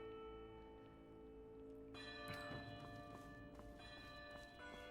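A church bell rings in the video game Where Winds Meet: sustained, layered bell tones hang steadily over a low ambient bed, with a fresh strike near the middle that brightens and swells the ringing.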